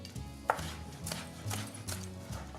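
A knife slicing the sides off a bell pepper on a cutting board, a few firm cuts with one sharp knock against the board, close and clear with no talking.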